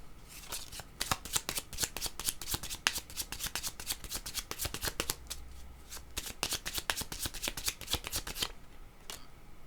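A deck of tarot cards is shuffled up close in rapid bursts of crisp riffling flutters, repeating steadily for several seconds before a brief pause and a final few shuffles.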